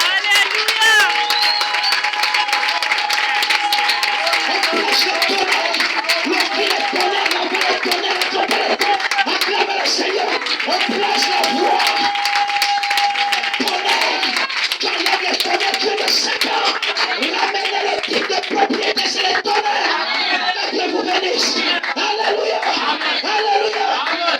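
A church congregation at a Sunday service claps and cheers continuously, with crowd noise and voices mixed throughout at a loud, steady level.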